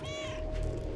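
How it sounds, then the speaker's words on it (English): A single drawn-out, plaintive cat meow in the video game Stray, with a wavering pitch over a steady electronic hum, close and clear. "that's the saddest meow"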